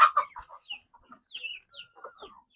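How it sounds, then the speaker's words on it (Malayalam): Farm chickens clucking while pecking at mushrooms, a series of short close clucks and a few higher drawn-out calls scattered across the moment, with no talking. "കോഴികൾക്ക് തീറ്റയായി"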